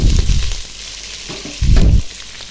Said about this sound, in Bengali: এখন পেঁয়াজটা ভাজবো।